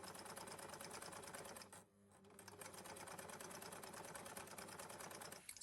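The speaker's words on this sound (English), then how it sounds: "let's take it to the sewing machine" A sewing machine stitches fabric for a handmade stuffed bluebell bunny soft toy, running in a steady rapid whir of needle strokes with a brief pause near the middle before resuming, close and alone.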